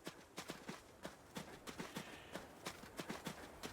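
Horse hooves clip-clop in the video game Adios, a steady walking rhythm of sharp, close hoofbeats in pairs and small groups, with no speech.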